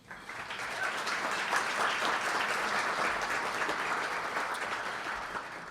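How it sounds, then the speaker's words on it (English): A crowd claps steadily and fairly loudly throughout, a sustained round of applause with no voices on top. "a round of applause for the team here"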